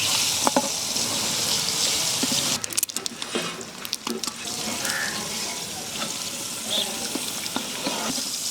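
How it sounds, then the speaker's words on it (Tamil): Fish pieces fry in hot oil in a large pot in an outdoor village kitchen while fish biryani is cooked, a loud continuous sizzle and crackle broken by a few sharp clinks and scrapes. "மீன் வறுத்து எண்ணெயிலே ஓகே மசாலா தாளிச்சிடலாம்"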